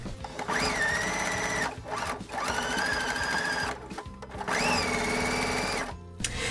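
A sewing machine with a quarter-inch foot stitching a seam on a pinwheel quilt block, three loud steady runs of rapid mechanical whirring separated by short pauses.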